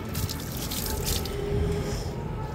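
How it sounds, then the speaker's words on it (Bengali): Yellow turmeric water pours from a mug over a dog being bathed, a steady close splashing and trickling of liquid running continuously throughout. "এবার এই যে মগের হলুদ জলটা দিয়ে দিই"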